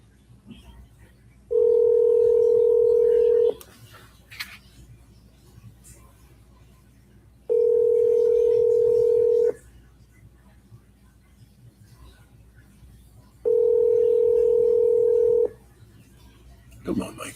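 Telephone call tone before voicemail: three identical steady beeps, each about two seconds long, separated by roughly four-second gaps over a quiet background with faint noise.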